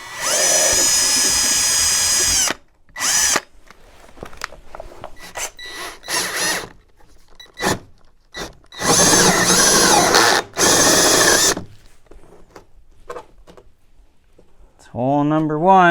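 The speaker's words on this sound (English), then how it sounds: "I'm going to have to drill a little pilot hole here first" A power drill whirs in several loud bursts with pauses between, drilling pilot holes for Maverick X3 rock sliders, while a person talks briefly in the gaps.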